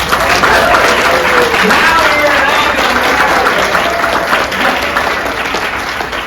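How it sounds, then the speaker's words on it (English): Loud, sustained applause from a keynote audience at a conference, a dense wash of clapping from many hands that holds steady and only slightly eases toward the end, with voices mixed faintly into the crowd. "So let's give them a round of applause."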